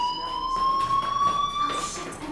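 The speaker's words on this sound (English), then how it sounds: "do you hear that fire alarm?" A video game fire alarm sounding as a steady high electronic tone, sustained and slightly rising for a couple of seconds, with other game noise faintly beneath.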